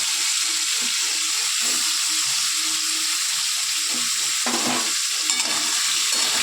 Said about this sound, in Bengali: এটাকে আমি ভেজে নেব, লাল লাল করে